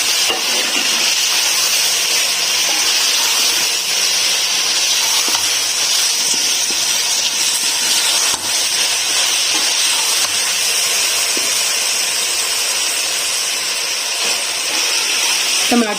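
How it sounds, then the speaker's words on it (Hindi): Tomatoes sizzling in a hot pan for a white matar pulao, a steady, loud frying hiss running throughout without pause. "इस टमाटर को भी इसके साथ ही भून लेंगे।"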